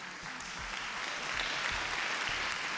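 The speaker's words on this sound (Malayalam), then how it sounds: "ഇക്കുറി നിങ്ങളുടെ വലിയ കയ്യടി വേണ്ടി വരും." Sustained audience applause fills a public stage event at a legislative assembly book festival, steady dense clapping throughout with no voices on top.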